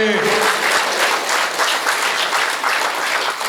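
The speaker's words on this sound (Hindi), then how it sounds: "कविता समाप्त हो गई है, तालियां बजाइए।" Steady, full applause fills a Hindi comic poetry gathering after a poem ends, loud and continuous with a brief voice at the opening.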